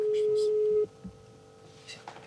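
Steady telephone call tone sounds for nearly a second and then cuts off, leaving faint line hiss and a few soft background noises.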